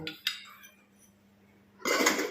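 A lid is placed on a pot of millet porridge salted with rock salt, giving two quick metallic clinks, a short quiet pause, then a clattering settle of metal on metal, close by.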